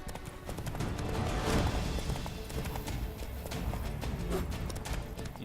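Hooves of Geralt's horse Roach in The Witcher 3, a steady, close clip-clop of a horse on the move that runs the whole stretch at an even pace, with no talk.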